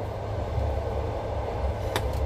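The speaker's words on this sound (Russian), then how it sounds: "вот наш поезд" A passenger train at the seaside station in Lazarevskoye sends a steady low rumble of rolling wagons, with a couple of brief metallic squeals near the end.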